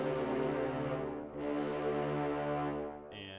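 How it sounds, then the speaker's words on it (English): Synthesized French horns sustain a mellow chord, swelling and shifting once, then a brighter tone enters at the end. "I think these are French horns."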